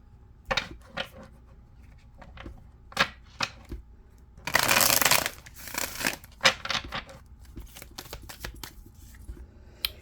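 Tarot cards riffled and shuffled in short bursts, with one longer, louder flurry midway and softer taps and snaps around it.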